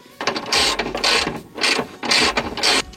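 A ratchet wrench clicks in rapid bursts while tightening a screw on a Fiat Bravo suspension arm, four or five close, loud rhythmic runs of ratcheting separated by short pauses.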